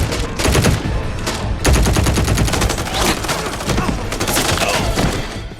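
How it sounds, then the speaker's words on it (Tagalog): Dense, continuous gunfire erupts outside a compound surrounded by police in a film, with rapid overlapping shots and bursts filling the whole stretch at high loudness. "Biglang pumutok ang mga baril sa labas."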